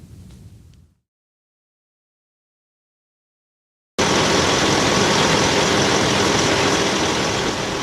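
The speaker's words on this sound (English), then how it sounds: "When morning silence is broken by the roar of a diesel engine, it's evident that a new delivery has come to town." Diesel engine of a delivery truck kicks in loudly after a short burst of quieter sound and a few seconds of silence, then holds a steady, dense rumble close by until the end.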